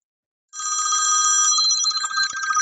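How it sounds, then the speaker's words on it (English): A mobile phone rings indoors, a loud, steady electronic ringtone that starts abruptly after a brief silence and continues without pause, with a few faint clicks near the end. "Oh, my phone's ringing."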